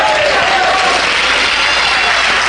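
Congregation applauding at a Holy Week church service, a steady dense wash of clapping held at full level from start to finish with no break.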